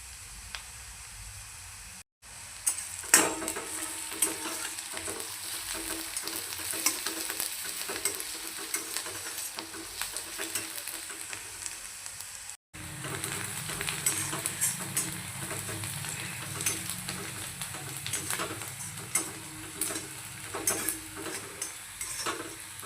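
Onions frying in a pan for okra sabzi, a steady close sizzle punctuated by repeated spatula scrapes and taps, with two brief dropouts to silence.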